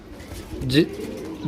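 A pigeon gives a single low, throaty coo beneath a person talking nearby.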